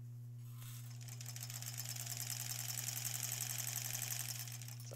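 Over a steady low hum, a sewing machine runs continuously across a thick seam on a Halloween embroidered tote bag, its rapid needle chatter rising slightly in the middle of a few seconds of stitching.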